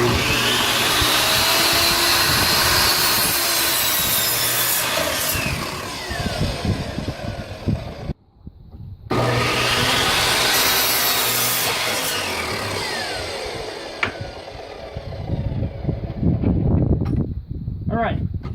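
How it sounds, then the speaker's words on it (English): Miter saw cutting wood for costume stands, two long loud whining cuts close by with a brief pause between them and the motor spinning down after each. "this is actually called a miter saw"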